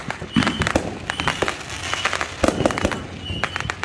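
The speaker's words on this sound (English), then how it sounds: "Or is it just fireworks?" Fireworks burst in a rapid, irregular series of sharp cracks and pops, some loud and close, others fainter, with a steady crackling wash between the louder reports.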